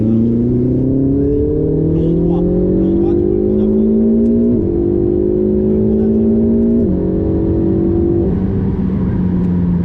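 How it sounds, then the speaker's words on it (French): A Ferrari 488 GTB accelerates hard on the Le Mans circuit, its engine note climbing steadily through several gear changes, loud and close from inside the car with a constant roar throughout. "on profite de ce premier tour pour faire quelques accélérations, freinages"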